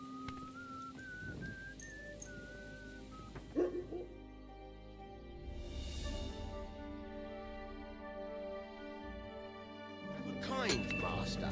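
A dog in the medieval video game Kingdom Come barks and yips briefly alongside in-game music and ambient tones, with a voice speaking.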